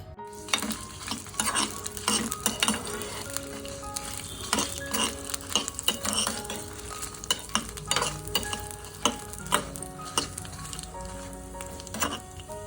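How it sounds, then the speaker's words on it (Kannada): Dried red chillies, seven or eight of them, frying in a spoonful of oil in a pan, with steady sizzling and crackling and repeated scraping and stirring of a spoon against the metal, close and fairly loud throughout. "ಒಂದು ಏಳರಿಂದ ಎಂಟು ಒಣಗಿರೋ ಮೆಣಸಿನ್ಕಾಯಿ ಸೊ ಇವಾಗ ಇದನ್ನು ಸ್ವಲ್ಪ ಹುರ್ಕೋತಾ ಇದ್ದೀನಿ ಒಂದು ಸ್ಪೂನ್ ಎಣ್ಣೆ ಹಾಕ್ಕೊಂಡು"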